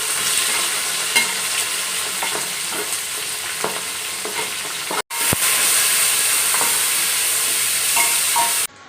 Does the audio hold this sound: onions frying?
yes